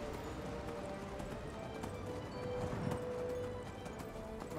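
Steady clip-clop of hooves with a horse's neigh rising briefly in the middle, over a continuous background hum, from a horse in the video game Skyrim.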